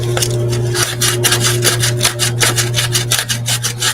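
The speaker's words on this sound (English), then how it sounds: "Sandpaper" Rhythmic scratchy rubbing of sandpaper against a turned wooden bowl on a lathe, steady strokes over a constant motor hum, close and fairly loud.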